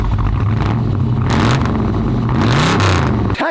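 Chevy pickup with a straight-piped exhaust revs loudly and continuously, its deep engine note climbing and falling through several throttle blips before cutting off abruptly at the end.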